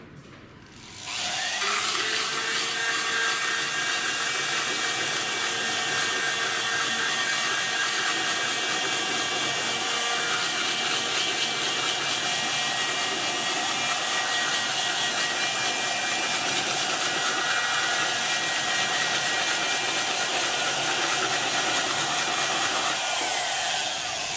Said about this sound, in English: I'm going to take my 100 grit sandpaper and we're just going to do a little grinding.